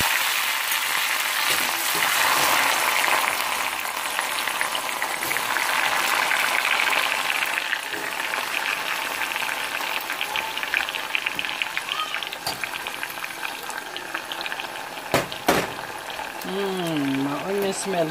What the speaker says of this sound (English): You know when you fry onions and tomato and garlic together, that smells so delicious.